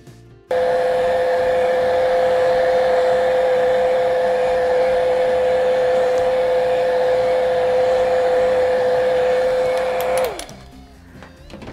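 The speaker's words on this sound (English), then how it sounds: "I'm going to take a couple of seconds just to dry this." A hair dryer blows steadily on wet paint, a loud continuous whine that runs for about ten seconds and then cuts off, leaving quiet room tone.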